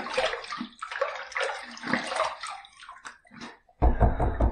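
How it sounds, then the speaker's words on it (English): Water runs and splashes close by while rinsing during a wet shave, a series of short spattering bursts from the sink and tap. "All right, let's rinse."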